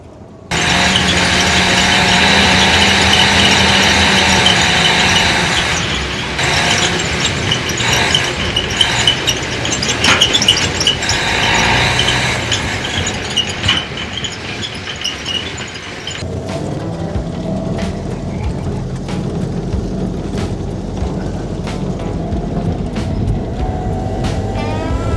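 A 1948 Willys CJ-2A jeep drives on its first spin, its engine running loud and continuous close by. The drone shifts in pitch as the jeep moves, with scattered clunks and rattles over the engine noise.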